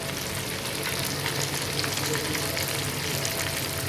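Chicken pieces for a karahi fry and brown in a pan, giving a loud, even sizzle close up that holds without a break.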